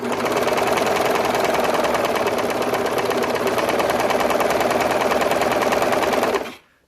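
A Brother 35 serger sewing machine stitching fabric at speed, a steady rapid mechanical chatter running loud and close before cutting off abruptly at the end.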